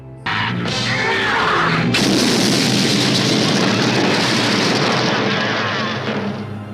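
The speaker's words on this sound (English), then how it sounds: "considering how big that explosion was" A huge cartoon explosion from a Transformers G1 episode, a sudden loud blast that swells into a long roaring, crackling rumble lasting several seconds before easing off.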